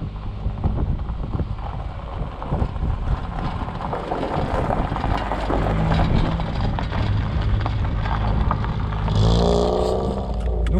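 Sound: Volkswagen Golf 1 Cabriolet Karmann car starting off

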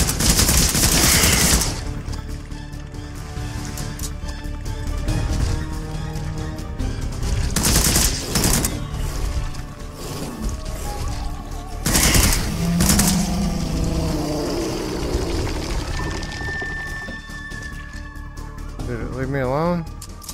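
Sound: gunfire from a video game (Immortal Legacy, PSVR)

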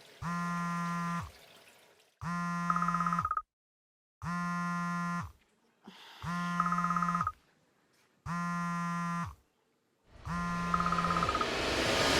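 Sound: phone ringing

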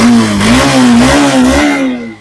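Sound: Yamaha FZ FI motorcycle engine revving

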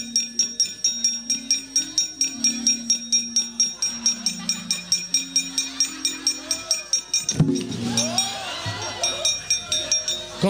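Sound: gong struck in Javanese wayang gamelan

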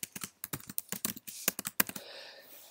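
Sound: typing a password on a computer keyboard

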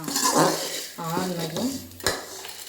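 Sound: transferring pirandai chutney into another vessel

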